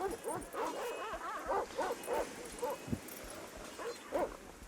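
Several dogs bark and yip in quick repeated bursts over a steady background hum, with some whimpering mixed in, before the barking fades out.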